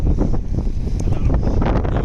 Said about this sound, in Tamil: எங்களுக்கு காற்றுமே வலுவாக இருக்குது காற்று வலுவாக இருந்தாலும் பரவாயில்ல